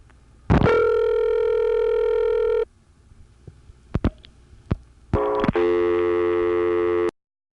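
Ringback on a party line at an NX1 crossbar exchange in Belvedere, New Jersey, 1976: two loud steady ringing bursts of about two seconds each, separated by a pause with clicks.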